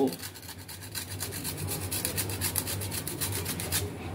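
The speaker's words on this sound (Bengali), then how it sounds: "এবার একটা গ্রেটারের সাহায্যে লেবুর সবুজ অংশটা ঘষে খানিকটা আমি গ্রেট করে দেব।" Gandhoraj lemon rubbed against a metal grater to take off the green zest, giving a steady close rasping scrape that repeats in short strokes throughout, with faint kitchen background.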